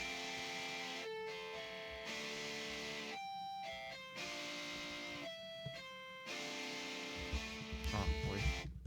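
A synthesized guitar tone from the preset 0372 Witter Rip plays sustained notes and short phrases, steady and fairly quiet, with a low rumble near the end.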